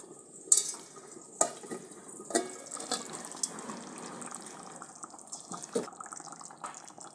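Vattakkai (aubergine) curry being stirred in a pot, with scattered scraping knocks of a spoon against the vessel over a soft, wet background, moderately quiet and with no talking.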